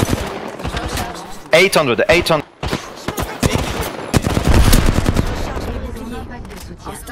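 Rapid gunfire bursts in Apex Legends, loud and close, crackling in repeated volleys amid game effects, with a player's brief voice mixed in.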